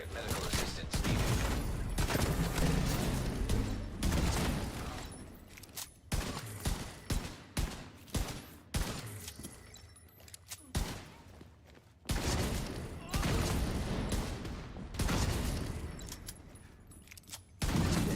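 Rapid, sustained bursts of House SMG fire in The Division 2, loud and close, in long rattling strings broken by brief gaps, with other shots and game sounds mixed in.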